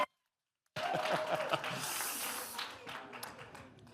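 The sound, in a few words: round of applause for Josh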